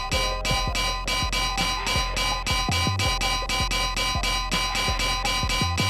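A big garden of bells in a Minecraft-style village game rings steadily and loudly, with dense overlapping strikes repeating in a fast, even rhythm all the way through and no voices.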